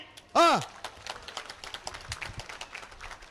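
At the Yermal Kambala semi-final buffalo race, a sharp whistle blast rings out, followed by a crowd's scattered, fairly distant clapping that continues unevenly.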